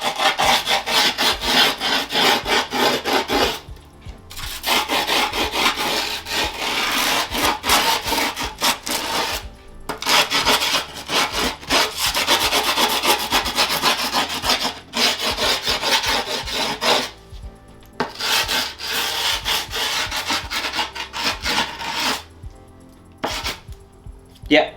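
A Primitive skateboard deck is sanded by hand in long, steady back-and-forth strokes, a loud, close rasping scrape with a few brief pauses.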